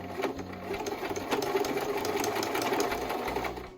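A hand-crank sewing machine runs steadily while a fabric scrunchie is stitched back and forth with a zigzag stitch, its dense mechanical whirring and clicking continuous and close for nearly four seconds before stopping.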